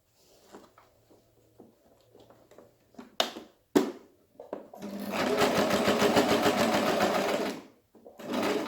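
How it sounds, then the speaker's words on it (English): Sewing machine stitching a fabric face mask, a few short stops and starts followed by a steady, loud run of several seconds and a final brief burst. "I'll just sew it now."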